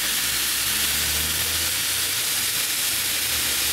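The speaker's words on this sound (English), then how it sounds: "Put your steak on the grill for 3 to 4 minutes, then turn it to the other side." Marinated flank steak searing on a very hot grill or pan gives a steady, loud, hissing sizzle that holds evenly throughout, with no voices.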